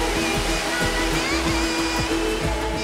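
Kuang Si waterfall in Laos pouring over tiered limestone pools: a loud, constant hiss of falling water, with a few faint rhythmic ticks and hums beneath it and no talk.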